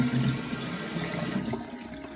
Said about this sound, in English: I'm going to rinse it off with some warm water.